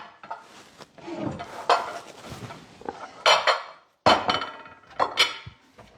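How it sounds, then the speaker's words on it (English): Melted chocolate for raw vegan peppermint truffles being moved into a stainless steel bowl, with clinks and scrapes of utensils against metal and a few sharp knocks, close and moderately loud. "if we transfer it to another bowl, because stainless steel"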